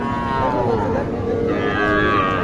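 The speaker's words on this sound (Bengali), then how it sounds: "এ হাট থেকে কিছু আপনাদের ছোট ছোট শাহিওয়াল জাতের বকন গরু দেখানোর চেষ্টা করব" Young Sahiwal heifers low at a busy cattle market in Naogaon, Bangladesh. Drawn-out mooing is loud and continuous, layered over the steady hubbub of the crowded market.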